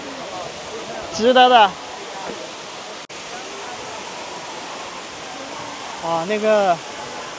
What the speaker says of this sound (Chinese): 而这只是一叠泉哦，它后面还有两级的一个瀑布，太神奇了